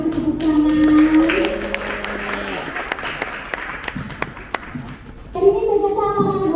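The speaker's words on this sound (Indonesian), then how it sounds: "Boleh kita kasih tepuk tangan." An audience at a local fashion business event breaks into scattered applause, a patter of claps rising in the middle and mixed with voices and background tones.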